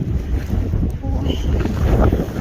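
Strong wind gusts across hilly countryside grassland in rural Thailand, a loud, steady roar of wind buffeting the microphone that continues throughout.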